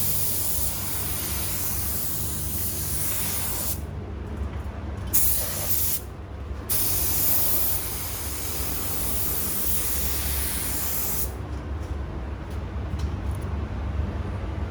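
Spray paint hisses steadily in close bursts onto a 1964 Comet car, with a couple of brief pauses between passes before the continuous spraying resumes.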